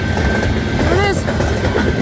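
A CN freight train rolling past outdoors with a rear DPU locomotive, a steady broad rumble of cars on rails with a brief rising tonal whine midway, sustained and fairly loud.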